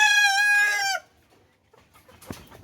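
A nearly adult chicken of a pet breed gives one loud, drawn-out call close by. Quiet follows, then a few faint, scattered clucks and scratchy sounds.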